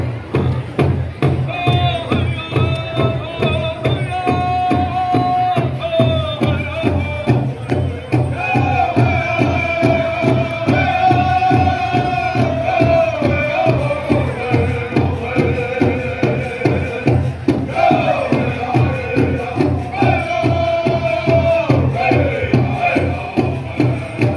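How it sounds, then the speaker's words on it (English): Crowd at a women's special final at the Black River Falls Labor Day powwow, a steady roar of cheering and applause with babble and loud, regular drumming and singing underneath throughout. "give them a round of applause"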